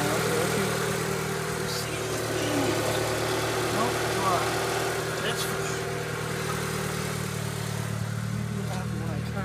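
A car engine idles steadily after hose repairs, a low constant hum with a mild rumble and no revving, running on without a break.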